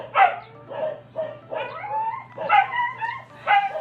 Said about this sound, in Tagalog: Excuse me sa maraming aso dahil marami talagang aso dito.